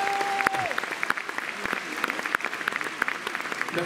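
Audience at the Miss Picardie 2020 pageant applauds Olivier Noël, Miss France Organisation's commercial manager, with a steady crowd of clapping, individual claps standing out sharply over the wash, moderately loud with a short tone at the start.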